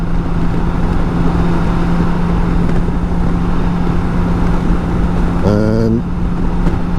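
A BMW K1600 GTL motorcycle rides along a road between Zaragoza and Madrid in Spain, with a steady, loud engine and wind roar throughout and a brief chirping tone near the end.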